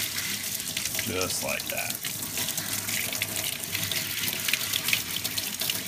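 Tap water rinses bullet slices in a sink, a continuous close splashing stream with a few clinks of the metal pieces, and someone briefly speaks over it.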